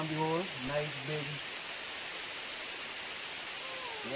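A big forest waterfall in the Kingstown Forest Reserve, St. Vincent, gives a steady, dense broadband rush throughout, with a voice talking over the opening seconds and again briefly at the end.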